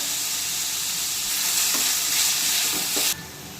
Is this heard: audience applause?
no